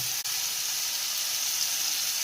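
Spices and chillies sizzle in hot oil while being tempered in a pan for phodnichi poli made from leftover rotis, a steady bright crackling hiss close up with one sharp pop near the start and another at the end.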